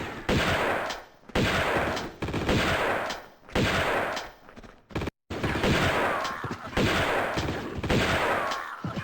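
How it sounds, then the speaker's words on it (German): Shotgun fire in a video game, roughly eight loud, blasting bursts in quick succession, each a sharp crack trailing into a short decay, with brief silent gaps between them. "Ich würde vorschlagen, ihr nehmt die Shotgun bitte einmal für diese Situation."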